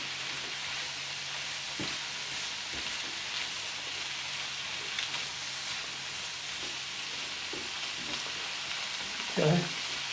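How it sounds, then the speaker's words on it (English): Cabbage fries in bacon grease in a pan while being stirred: a faint, continuous sizzle with soft scattered scrapes and one brief louder clatter near the end, no talking. "So I'm stirring it around now, getting a lot of that bacon grease into the cabbage to help get it all that flavor."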